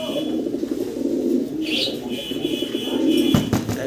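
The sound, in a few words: pigeons cooing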